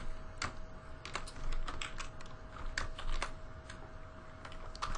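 Irregular bursts of computer keyboard keystrokes while coding an Android application, with clicks coming in quick clusters and short pauses against a steady low room hum.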